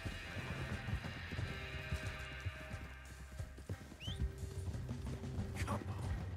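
Horse hooves clip-clop at a gallop in the Western game Red Dead Redemption 2, with a neigh or whinny rising through the steady rumble of the ride; no one speaks in the clip.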